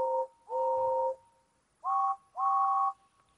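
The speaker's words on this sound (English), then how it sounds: "They whistled impatiently." Steam engine whistles sound in four clear, sustained two-tone blasts, two lower then two higher, with short gaps between them, loud and close against a quiet background.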